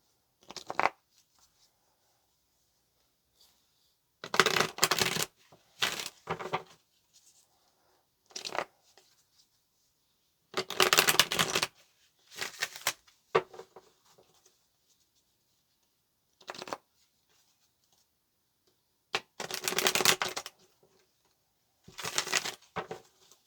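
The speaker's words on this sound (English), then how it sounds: "Let's pull some tarot." Tarot cards being shuffled: repeated riffling and sliding bursts of card noise, close and clear, coming in irregular clusters separated by stretches of silence, with no speech.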